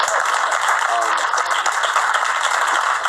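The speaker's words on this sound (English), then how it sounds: "Give this brother a round of applause." An audience at a speaking event applauds in a dense, sustained wash of clapping, loud and even throughout, with voices mixed in.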